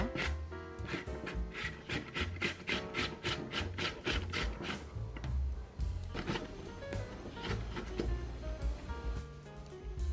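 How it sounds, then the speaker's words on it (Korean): A soft melon is grated by hand on a kitchen grater, producing a steady run of repeated wet rasping strokes, quiet and close, with no talking. "강판에 멜론을 갈아주세요."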